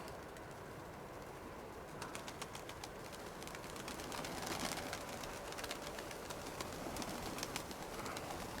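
Soft pigeon coos repeat now and then against a faint outdoor background, fairly distant and quiet, with no voices.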